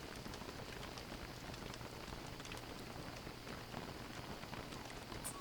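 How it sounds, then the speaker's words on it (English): Steady rain falls in a video game cave setting, a soft, continuous patter of drops that is fairly faint and dense, with no voices over it. "it's still raining"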